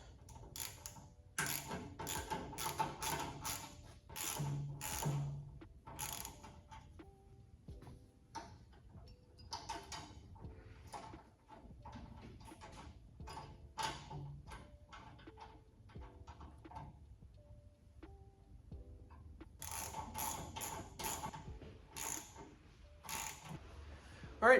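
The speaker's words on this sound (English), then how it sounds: "I've got a 13mm socket queued up." A 13mm socket ratchet clicks in repeated bursts of quick pawl ticks while bolts are turned during installation of a remote hydraulics kit on a late-1990s Kubota tractor, with pauses and a few soft knocks between bursts.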